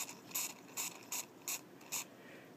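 A magnetic stirrer's motor is twisted by hand after a spray of contact cleaner, giving five evenly spaced ratcheting clicks, close and fairly quiet, with no talk.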